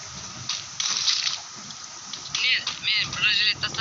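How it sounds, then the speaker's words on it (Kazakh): Rain falls in a battle-royale video game as a steady, watery patter. A player's voice breaks in over it now and then, mostly toward the end. "Я, жаңбыр жауып отыр."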